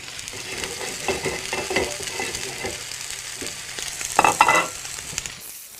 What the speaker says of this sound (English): So what we're going to do is seal the steaks, caramelize them, seal them on the plate.